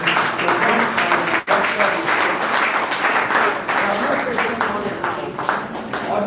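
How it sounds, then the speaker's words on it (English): An audience at a talk on parenting and societal problems claps together in a sustained burst of applause that continues steadily throughout, with scattered individual claps standing out. "clap your hands."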